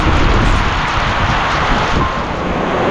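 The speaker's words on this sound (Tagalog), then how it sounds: "Nabutan din kami ng ulan." Steady, loud rain falling outdoors, a dense unbroken hiss with wind noise buffeting the microphone for the whole stretch, no voices.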